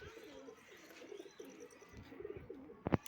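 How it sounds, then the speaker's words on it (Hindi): Madrasi pigeon cooing in a low, repeated rolling pattern close by, the coos steady through the clip, with a few sharper clicks or flutters near the end. "एक मद्रासी कबूतर है"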